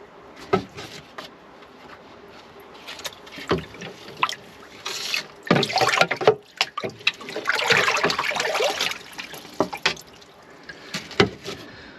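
Water sloshes and gushes out of a koi pond filter as it is flushed, irregular surging splashes and trickles that swell loudest in the middle, fairly close and with no talking.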